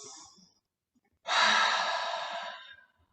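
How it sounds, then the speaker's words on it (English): A single deep breath during a yoga sun salutation, drawn in then released as a long, steady, airy exhale up close, with no talking. "Take a deep inhale and exhale here."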